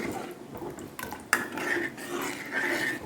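Buttermilk curry being stirred in a pot over low heat, with a spoon scraping and clinking against the metal in steady, close, fairly quiet strokes and one sharper knock partway through.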